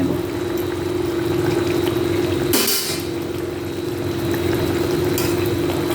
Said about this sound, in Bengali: সামান্য একটু ঝোলটা ফুটে উঠলেই কিন্তু আমি এটাকে নামিয়ে নেব